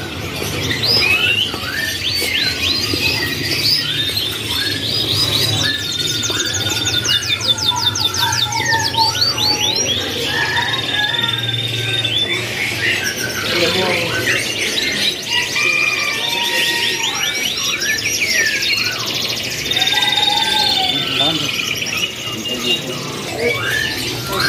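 Many canaries chirp and trill continuously at a bird shop, layered songs with rapid warbling runs, fairly close and busy throughout.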